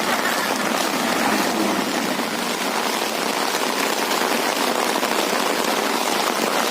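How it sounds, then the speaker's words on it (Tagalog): Heavy rain pours steadily on an outdoor walk in the Philippines, a dense, loud hiss of drops pattering on surfaces with no letup, close and unbroken throughout. "Ayaw, nakalakas ang ulan na."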